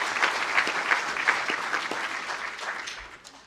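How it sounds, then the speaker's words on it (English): Audience applause for business graduates at a university conferring ceremony, a steady, moderately distant wash of many hands clapping that tapers slightly toward the end. "I would ask the graduates of the Bachelor of Business Honours to stand for a well-deserved round of applause"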